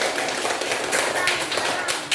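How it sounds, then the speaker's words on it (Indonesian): Third-grade pupils in an elementary school classroom clap together in a rapid, dense patter of many small hands, close and fairly loud for a couple of seconds. "Tepuk tangan."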